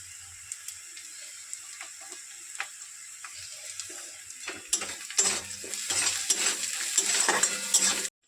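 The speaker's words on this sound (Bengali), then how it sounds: "মাছটা একটু লবণ দিই তাহলে একটু তাড়াতাড়ি ভাজাটা হয়ে যায়" Fish fries in a pan after salt is added, starting as faint crackles with light clinks and building into a denser, louder sizzle toward the end.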